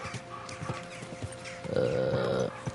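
Horse hooves clip-clop on the ground in Kingdom Come: Deliverance II, several scattered near steps followed by a louder buzzing, whinny-like sound toward the end.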